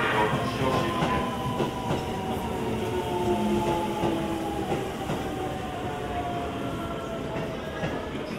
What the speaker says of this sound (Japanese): 1番線到着の列車は各駅停車京王八王子行きです。